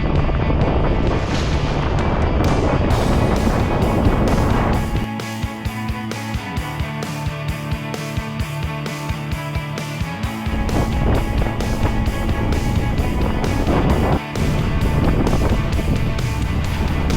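Steady, loud wind roars over a sailboat under way on a windy day, a constant rushing blast that buffets the microphone with occasional gusts and a deep hull rumble underneath.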